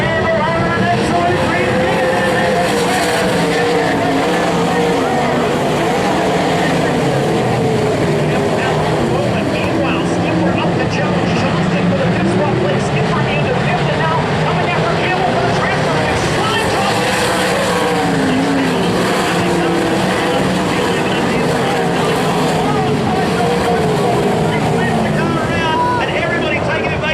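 Speedway race cars at Parramatta Speedway roar down the back straight as a loud, continuous engine howl, while a race commentator talks over the noise throughout.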